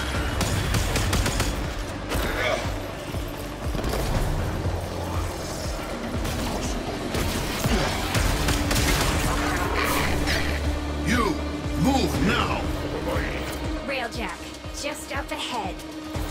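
Gunfire in the video game Warframe, bursts of shots and crashing impacts layered over a continuous loud battle mix with music, with voices heard at points.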